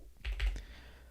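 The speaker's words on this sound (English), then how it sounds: "I can start typing some characters." Several quick soft keystrokes on a computer keyboard while entering characters in the vim editor, a short close burst of clicks in a quiet room.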